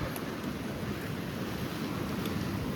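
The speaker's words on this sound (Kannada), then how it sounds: "ಅಲೆ ನೆಕ್ಸ್ಟ್ ಲೆವೆಲ್ ಫುಲ್ ಜೋರಲ್ಲೇ ಗೈಸ್." Strong sea waves surge and crash onto a monsoon beach near a coast guard office, a loud, continuous roar of surf with wind buffeting the microphone, no voices present.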